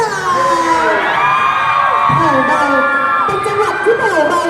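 A dense crowd of adults and children at a Baoji Grand Sale event in Surat Thani, Thailand, screams, whoops and cheers loudly and continuously, voices overlapping in a sustained roar throughout.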